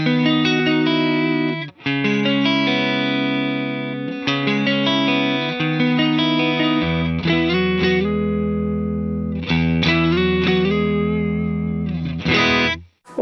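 Electric guitar played through a Strymon Volante echo pedal with the echo volume at zero, giving clean sustained chords and single notes with brief gaps, loud and close, with no audible repeats.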